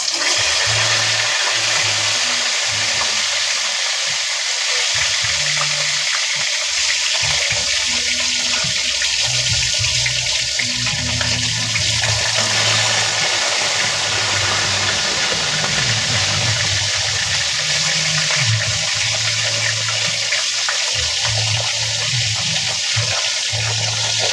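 Pieces of fried tilapia go one at a time into hot oil, giving a steady, dense, close sizzle with a continuous hissing wash and low bubbling underneath, with no voices.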